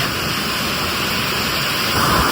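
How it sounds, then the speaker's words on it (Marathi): Steady, dense hiss of heavy rain pouring down continuously, broadband and unbroken, with no voices. "आता पाऊस चांगलाच वाढलाय"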